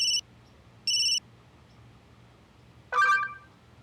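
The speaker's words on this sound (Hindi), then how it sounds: "अनीश का वीडियो कॉल अचानक? छोड़, मत उठा।" A phone rings with an incoming video call in a quiet room: two short electronic ring bursts a second apart, then a louder, different chime, with no voices.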